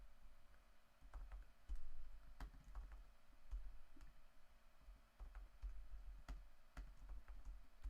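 A computer keyboard is typed on in quick, irregular bursts of soft key clicks, close but quiet, with a low background hum and no talking.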